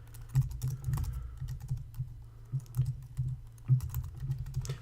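Password typed on a computer keyboard while setting up a mail server user account, soft close key taps in short uneven bursts with brief pauses, no talking.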